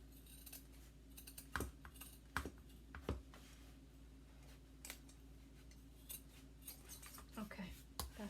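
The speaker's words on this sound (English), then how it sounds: "we can trim a little bit here too" Scissors trim lace fabric for a clutch purse with a series of faint, sparse snips and clicks over a quiet background hum, picked up close.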